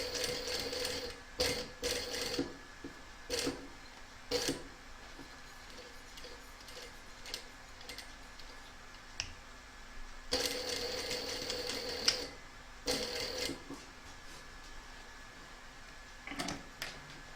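A sewing machine stitches a raggy quilt in repeated short bursts of rapid mechanical clatter separated by quieter pauses, close and moderately loud, with no voices.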